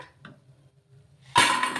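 Crisp fried leftover-rice kurkure is tipped into a bowl; after a quiet start with a faint clink, a sudden loud, close clatter and rattle of crunchy pieces fills the last half second.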